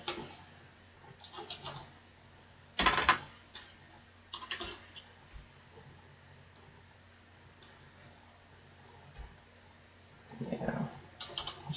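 Keys on a computer keyboard are tapped in short scattered bursts of clicks, with one sharp louder clack and several quiet pauses between, close up in an otherwise quiet room.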